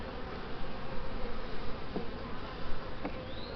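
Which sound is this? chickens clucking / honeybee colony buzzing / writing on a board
honeybee colony buzzing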